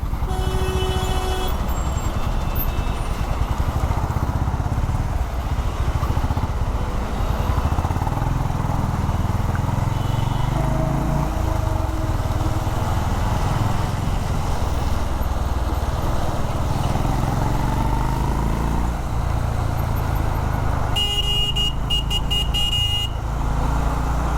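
Honda CB350 RS motorcycle riding through traffic near a toll checkpoint, with a steady engine rumble mixed with surrounding car and truck noise and a horn honking near the end.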